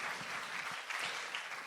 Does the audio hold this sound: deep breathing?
no